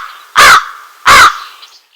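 A crow caws twice, loud and close, with an even pause between the two harsh calls and quiet after them.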